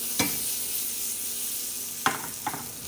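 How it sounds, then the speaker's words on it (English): Onions sauté in butter or oil in a pot, giving a steady hissing sizzle with a few sharp spoon taps against the pot as they're stirred, close up and without speech. "we're just gonna throw that in the pot and saute that down a little bit"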